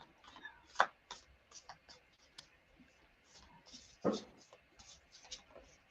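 Oracle cards being shuffled by hand make soft, scratchy riffling bursts in an irregular rhythm, close and quiet, with a couple of sharper slaps and faint voices in the background.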